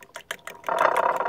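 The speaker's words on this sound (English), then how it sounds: "I take my fork and whisk it all up." Fork whisking breakfast ingredients in a bowl: a few quick scraping taps, then a fast continuous rattling whisk, close and brisk.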